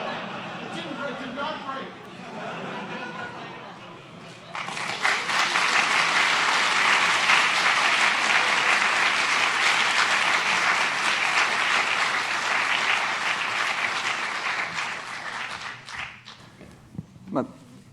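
A conference audience at a mathematics lecture breaks into loud, dense applause after a few seconds of talk, sustaining it for about ten seconds before it tapers off, with a voice at the close.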